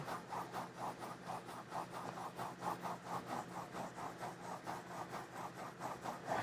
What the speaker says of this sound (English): the blue is the 1000 grit. And I just give it a little bit of lubrication, and then we get back to sharpening